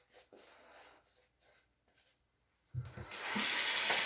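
A bathroom tap starts running during a straight razor shave, a steady broadband water rush switching on near the end after quiet scraping and handling sounds.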